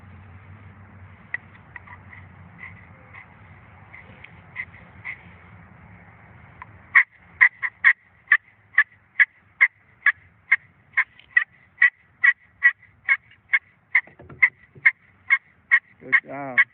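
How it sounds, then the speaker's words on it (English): A glass turkey call played with a river cane striker gives a run of sharp, evenly spaced yelps, loud and close, after some quieter soft clucking notes at the start. "she can run this glass call with the River Cane Striker"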